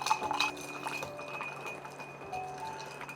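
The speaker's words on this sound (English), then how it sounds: "Now take my large cube here, give it a crack, and stir" A Negroni is stirred over a large cracked ice cube in a glass, giving soft, faint clinks and a gentle swirl, close and quiet.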